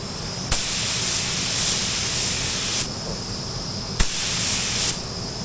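A spray gun shoots candy paint over chrome in steady, loud hissing bursts, two long passes each starting with a sharp trigger click and ending abruptly, with no talking.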